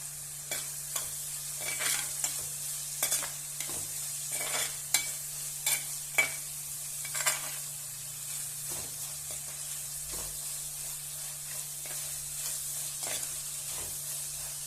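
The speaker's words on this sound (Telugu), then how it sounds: "కొంచెం ఉప్పు వేసుకుందాం. తొందరగా ఫ్రై అయిపోతాయి." Onions frying with salt and curry leaves in a pan for an egg and drumstick curry, a steady sizzle punctuated by repeated stirring scrapes and taps at an irregular rhythm, with no talk.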